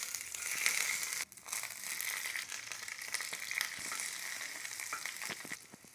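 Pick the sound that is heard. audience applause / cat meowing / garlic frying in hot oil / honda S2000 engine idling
garlic frying in hot oil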